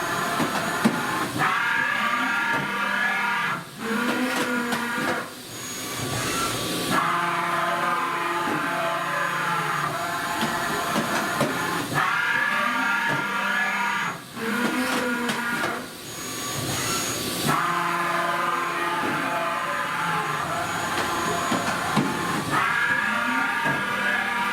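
A CNC milling machine traverses along its X axis at a raised feed rate, giving a steady motor whine with warbling tones that rise and fall as each move starts and stops.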